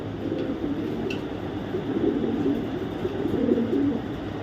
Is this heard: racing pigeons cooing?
yes